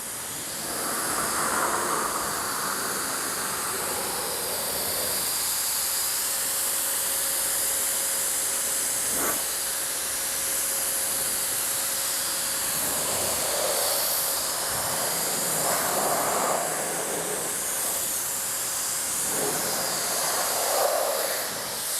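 SGCB Air Force heated dryer blasting water off a car, a continuous loud hissing rush of air that swells and eases as the nozzle moves.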